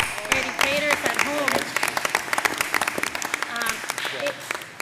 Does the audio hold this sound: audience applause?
yes